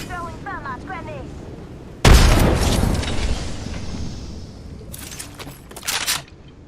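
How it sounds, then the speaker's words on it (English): Thermite and frag grenades explode in the video game Apex Legends: a loud, heavy blast erupts and decays into a long rumble, followed by further sharp bursts, after brief voices and chirping effects at the start. "Throwing frag. Throwing thermite grenades."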